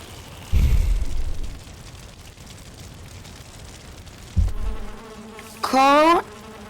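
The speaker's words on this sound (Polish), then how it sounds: "Czy słyszysz jakiegoś komara?" Insect buzzing from a mosquito in the video game Valheim, set in a swamp, comes in a few short loud bursts, ending with a brief rising, tonal whine.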